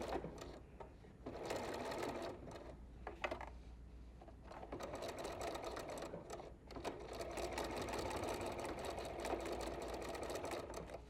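A sewing machine stitches quilting lines on fabric strips, a fast close mechanical whir that runs in bursts with short pauses between them.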